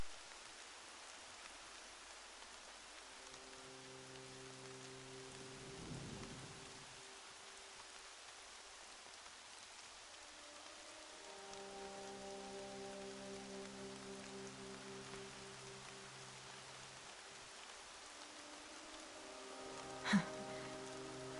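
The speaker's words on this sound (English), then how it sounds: "Rain's not so bad." Steady rain patters softly in Horizon Zero Dawn, a faint continuous hiss of drops on surfaces under a low droning game soundtrack, with one sharp louder hit near the end.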